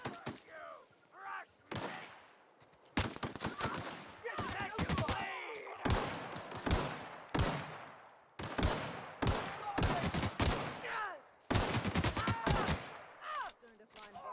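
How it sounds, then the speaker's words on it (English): Repeated bursts of gunfire from the video game The Outer Worlds, loud volleys and sharp shots spread across the clip with brief gaps, some echoing booms, and faint game voices underneath. "I didn't mean shooting in the back there"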